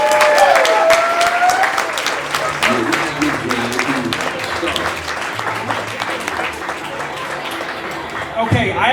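Audience applause at a cinema event fills the room, loud and sustained, with clapping mixed with crowd noise, talk and a low tonal hum, then fading slightly toward the end before a burst of sound.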